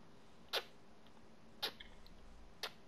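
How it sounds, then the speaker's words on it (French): A cat gives three short, sharp meows at roughly one-second intervals, moderately near and standing out against a quiet background. "C'est le chat."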